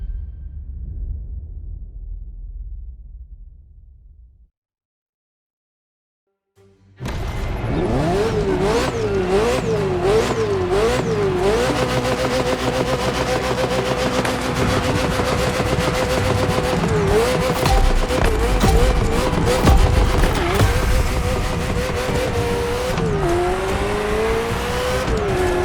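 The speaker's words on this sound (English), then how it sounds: "Ferrari F40, second vehicle of the manufacturer to earn the prestigious supercar status" Ferrari F40 supercar in The Crew Motorfest, its engine roaring loud and close after a brief silence, revving and shifting continuously with rising and falling pitch and occasional tire squeal.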